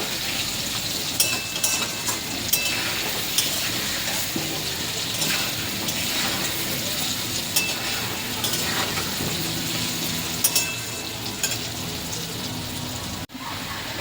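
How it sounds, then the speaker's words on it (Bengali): Potatoes fry in oil with chilli powder in a home kitchen pan, giving a continuous close sizzle dotted with small crackles and scraping clicks, heard alone without speech. "দিয়ে আলুটা ভালো করে ভাজবো, হালকা ভাজবো আলুটা।"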